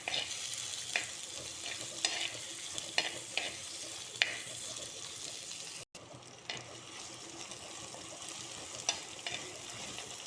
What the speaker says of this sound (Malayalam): ഇതിലേക്ക് നമുക്ക് തക്കാളി ഇട്ട് കൊടുക്കാം. നമുക്കൊന്ന് നന്നായിട്ട് ഇളക്കി കൊടുക്കാം.